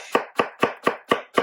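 A knife cuts through onions into slices about 1/4 inch thick on a board, six crisp, evenly spaced chops, close and clear with no talking.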